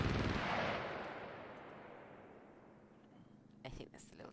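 Gunfire from automated turrets in the game SCUM: a loud initial burst decaying into a long rumbling tail, followed by a few sharper shots near the end, with no talk over it.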